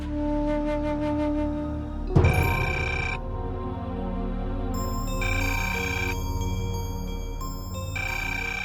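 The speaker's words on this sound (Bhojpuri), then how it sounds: "फोन तो उठावा" A telephone rings with repeated electronic tones in a steady pattern, heard alone over a constant low hum, with a sharp knock partway through and no talking.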